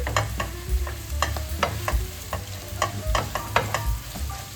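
Onion and carrot frying in a pan over medium heat for buckwheat pilaf, with a steady sizzle broken by repeated close scrapes and clacks of stirring.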